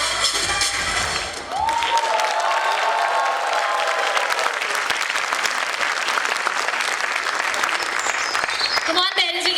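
Audience of parents at a school show applauding and cheering, a dense, sustained wash of clapping with scattered shouts that carries on for several seconds, with voices heard briefly at the start and end.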